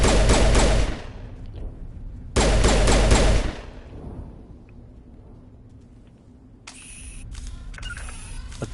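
Bursts of automatic gunfire from the video game Mass Effect Legendary Edition, two loud rapid volleys of about a second each separated by quiet, then scattered softer game sounds and electronic effects.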